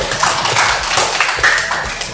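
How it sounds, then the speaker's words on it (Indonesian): A classroom of students clapping hands together during a lesson, a dense burst of quick overlapping claps, close and fairly loud, continuing steadily for about two seconds. "Tepuk tangan dulu."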